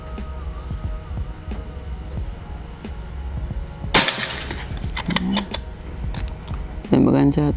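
Several sharp, loud PCP air rifle shots ring out one after another with short gaps, each a crisp crack over steady background hum and faint talk.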